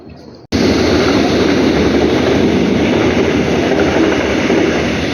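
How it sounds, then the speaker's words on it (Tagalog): A train pulls into a station on the line between Gunpo and Suwon in South Korea, surging in suddenly after a quiet moment as a loud, sustained rumble of wheels and carriages with a high whine above. "Tren yun, tren."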